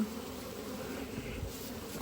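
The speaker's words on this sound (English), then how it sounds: "Big hive, ton of bees early in the season." Honeybees buzzing steadily at a large hive early in the season, a dense continuous hum of many insects close by.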